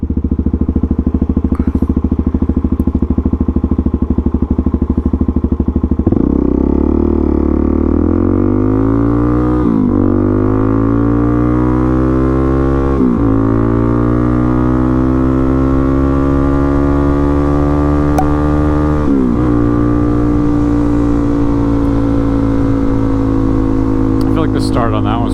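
A KLX300SM and a DRZ400SM, single-cylinder supermoto motorcycles, accelerate hard in a run, engine pitch climbing steadily through several gear changes with brief drops at each shift, loud and close over wind noise.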